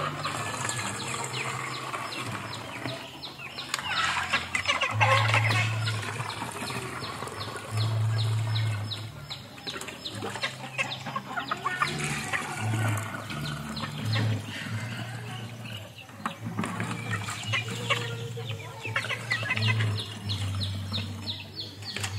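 Backyard chickens clucking softly while being given water, the hens' calls scattered and fairly close over a constant busy farmyard background.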